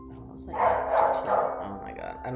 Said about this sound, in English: I don't know if you can hear my dog barking in the background.